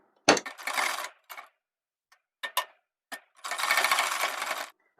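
A sewing machine stitches the placket strip of a three-year-old boy's kurta in short bursts, with several quick runs and pauses and a longer steady run near the end, close and alone.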